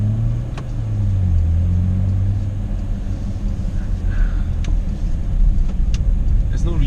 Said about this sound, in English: Can this car pull away in a mad manner?